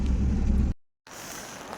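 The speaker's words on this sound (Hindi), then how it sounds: "ऐसी ज़बरदस्त बारिश हो रही है कंटिन्यूसली" Heavy continuous rain pours down on a road in Kalam, Swat, as a dense, loud hiss that breaks off briefly and then resumes, with no one talking.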